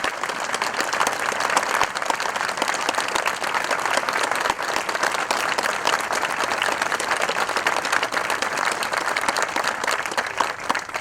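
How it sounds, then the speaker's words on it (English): A crowd at an outdoor Memorial Day ceremony honoring veterans and fallen servicemembers applauds, dense sustained clapping filling the whole stretch without pause. "let's give them a round of applause"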